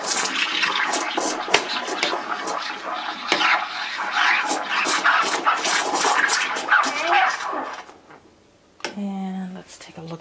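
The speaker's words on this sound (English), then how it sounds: "I'm going to hit it to froth." An AICOK espresso machine froths milk with a loud, continuous hiss and gurgle that runs for several seconds before cutting off, while a person talks.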